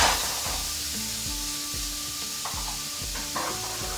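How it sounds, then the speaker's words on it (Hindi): Chopped onion fries in a pan, a loud, steady sizzle with rhythmic scraping strokes as it is stirred, close up and with no one speaking. "तो चलिए फ्राई कर लेते हैं।"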